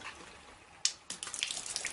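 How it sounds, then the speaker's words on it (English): Water starts flowing out of a hose from a drum in a demonstration: quiet at first, a sharp splash, a brief pause, then a steady rushing, gurgling stream that continues close by. "the water will flow."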